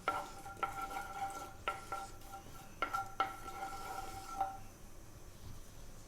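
Cumin seeds fry in coconut oil in a pan, with a faint, steady sizzle beneath several bright metallic clinks and taps of a utensil against the pan. No one speaks.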